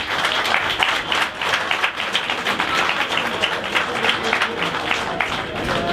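An audience at a social solidarity and culture center applauds loudly and steadily, with individual claps distinct within the close, lively crowd sound.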